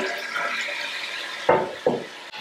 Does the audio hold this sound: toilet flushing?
yes